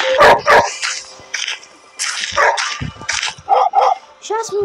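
A dog in the Schoolboy Runaway video game barks in several sharp, loud bursts near the start, followed by whimpering yips toward the end, with someone talking over parts of it.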